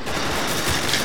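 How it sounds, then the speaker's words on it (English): Dense, continuous gunfire in the Call of Duty Black Ops video game on Xbox 360, a loud sustained burst of rapid shots with no talk over it. "Everyone's shooting me everywhere."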